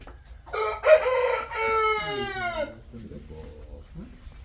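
A rooster crows once, loud and close, beside a chicken coop, a drawn-out cock-a-doodle-doo followed by softer clucks and low murmuring voices.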